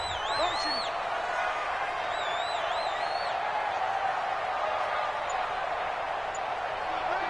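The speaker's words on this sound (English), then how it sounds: "The crowd getting into it as we come up on a big 3rd down." Steady crowd roar from a football video game on PS4 builds toward a big third down, a dense continuous cheer with whistling tones above it and a commentator talking over the top throughout.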